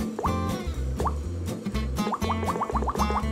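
Playful bubble-pop keystroke sounds from an iPhone keyboard, a rapid series of close, bright plopping blips with a tonal, rising character, coming in quick irregular bursts like typing.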